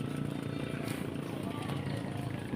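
A motorcycle engine runs steadily at close range, a continuous low rumble with a busy mechanical buzz that holds throughout, with voices faintly mixed in.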